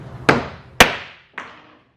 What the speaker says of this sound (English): We're still going to take the hammer to it.